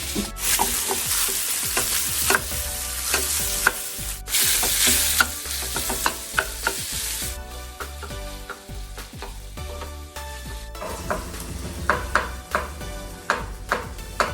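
Food sizzles and crackles in a hot pan while utensils scrape and tap, a busy close-up frying sound with no talking.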